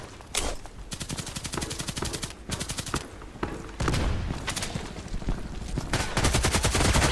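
Rapid bursts of shotgun and automatic gunfire from the online shooter Contract Wars, loud and dense, with repeated volleys separated by brief gaps and heavy sustained firing toward the end.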